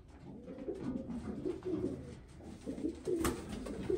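Racing pigeons coo in low repeated throaty murmurs, several birds overlapping at close range in a loft, with a brief sharp sound near the end.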